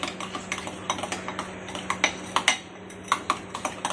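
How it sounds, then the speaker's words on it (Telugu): A small whisk clinks quickly against a bowl while nut grass powder is mixed into a skin-care paste, producing a steady run of light, close metallic taps with no talking. "ఈ తుంగగడ్డల పొడి అనేది ఇందులో యాడ్ చేసి బాగా మిక్స్ చేసుకోవాలి"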